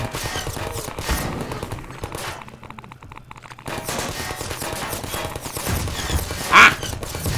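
Combine autogun in Half-Life 2: Episode 2 firing rapid bursts of gunfire, loud and continuous with a brief pause midway, player voice faintly under it.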